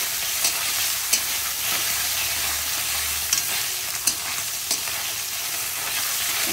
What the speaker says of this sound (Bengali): ট্যাংরা মাছগুলোকে ভেজে নেব, তেল করে গেছে, ট্যাংরা মাছগুলোকে ভেজে নেব।